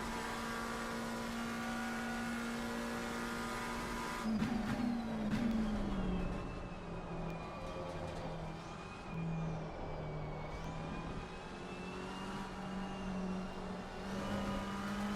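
A Porsche race car engine in Assetto Corsa Competizione at Monza drones steadily at high revs, its tone rising and dipping through gear changes as other cars pass, with no talk over it.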